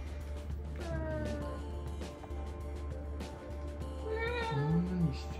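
A voice imitates a cat with drawn-out meows, the last one long and rising, over a low background hum.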